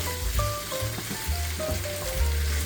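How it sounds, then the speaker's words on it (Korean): Squid stir-fried in chili oil sizzles steadily and loudly up close, with bursts of stirring and tossing in the pan and no talking. "고추기름 어느 정도 나왔으면 오징어 투하 기름에 잘 볶아주고"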